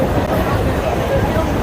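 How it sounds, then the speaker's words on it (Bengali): Train rolling along the line after leaving Mecheda station toward Panskura, a steady dense rumble and rattle filling the whole stretch, loud and continuous with faint background voices inside the carriage. "ট্রেন এখন আমাদের মেছেদা ছেড়ে পাঁশকুড়ার উদ্দেশ্যে যাচ্ছে"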